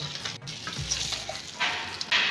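Doumbura fish fry in hot oil in a pan, giving a soft, steady sizzle with a few stirring scrapes and brief louder crackles toward the end.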